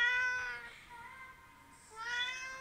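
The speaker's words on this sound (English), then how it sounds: "That's the cat Wesley." Wesley, a house cat, gives two drawn-out meows close by in a quiet room, with a short pause between them.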